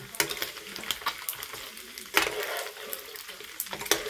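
Chicken fries in a small amount of oil, sizzling steadily with bursts of crackle and the scrape of stirring, close and moderately loud.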